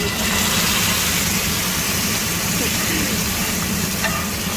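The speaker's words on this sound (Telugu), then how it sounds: "ఇప్పుడు నేను చేసా కదా ఆ గ్రేవీ వేస్తున్నానండి కొంచెం" Pav bhaji gravy sizzles and fries hard in a hot pan, giving a loud, dense, continuous crackle with some stirring noise throughout.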